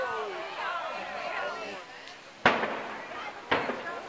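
Explosive charges bring down the towers of an industrial plant, two sharp blasts about a second apart ringing out at a distance over a crowd of onlookers chattering nearby.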